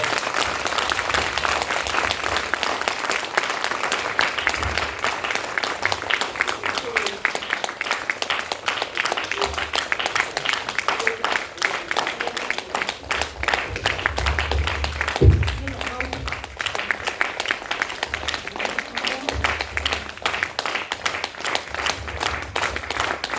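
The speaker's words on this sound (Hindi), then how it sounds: "ताली बजाकर" A gathered audience claps steadily throughout the unveiling of a Gau Mahapuran scripture at Gayatri Dham, Sendhwa, with a voice talking over the continuous applause.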